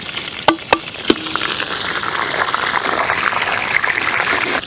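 Whole spices such as cinnamon, cloves, cardamom, star anise and fennel seeds fry in coconut oil, a few sharp clinks at the start, then a steady close sizzle that keeps building, with no talk.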